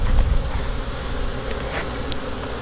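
A swarm of bees buzzes inside an Adirondack chair, a close, continuous humming drone with a few brief louder passes of individual insects, no talking.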